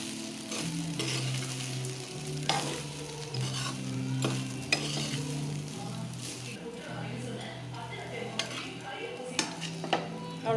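Cooked rice scraped and stirred in a pan for Tamil coconut rice, with a steady sizzle and repeated clinks of a spoon against metal close by. Faint background sound runs underneath throughout.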